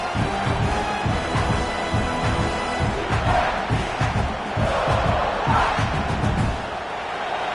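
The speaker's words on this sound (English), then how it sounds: "This crowd bringing the energy and noise early." A large stadium crowd roars and cheers continuously at a Clemson vs South Carolina football game, a dense wall of voices with swelling shouts rising above the steady din.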